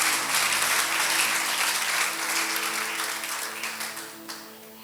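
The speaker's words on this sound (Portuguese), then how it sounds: "Se alguém está vivo, aplauda e glorifica o nome do Senhor" Congregation in a church service clapping together in praise, a full, steady wash of applause that carries on without voices and gradually tapers off near the end.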